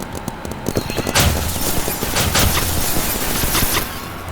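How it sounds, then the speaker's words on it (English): Minigun firing in a paintball video game, a loud sustained rapid burst of shots that rattles on for several seconds, with players talking over it. "I actually just killed her long shot with a minigun."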